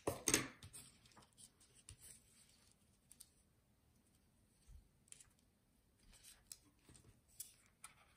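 Scissors snip ribbon on a handmade greeting card, one sharper cut near the start followed by faint, scattered small clicks and rustles in a quiet room.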